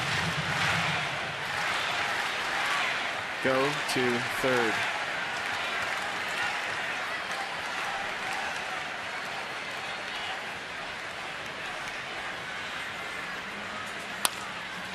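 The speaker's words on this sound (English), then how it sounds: "Listen to the crowd." A baseball stadium crowd at a Mets–Nationals game roars in a steady, distant wash of cheering and noise, while a voice on the field shouts briefly partway through.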